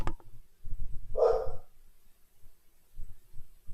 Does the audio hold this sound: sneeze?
no